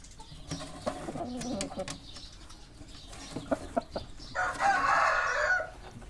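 A fighting rooster lets out one loud, close crow after some clucking, scuffling and tapping sounds nearby.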